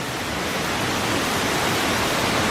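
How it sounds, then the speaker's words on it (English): A loud waterfall roars steadily at close range, a dense, unbroken rushing wash of falling water with no other sounds standing out. "we're here at the noisy waterfall"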